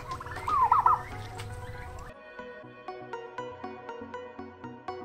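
Young turkey poults, about three months old, gobbling in a small family poultry house, with a burst of wavering calls early on, then steady repeated tonal notes throughout, near and fairly clear with no talk.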